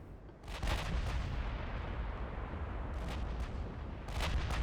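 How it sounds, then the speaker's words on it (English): Battle cruisers fire their guns in the naval strategy game Ultimate Admiral Dreadnoughts, producing a continuous rumbling barrage of deep booms with sharper cracks bursting through at intervals, loud and dense throughout with no voices. "Battle cruisers are firing."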